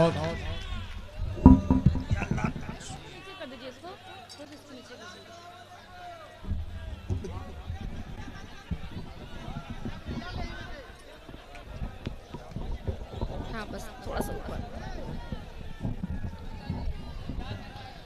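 Audience at an All India mushaira poetry gathering in Bheera, Mau claps for poet Chandni Shabnam, a dense, ongoing patter of many hands that runs throughout, mixed with voices and room noise.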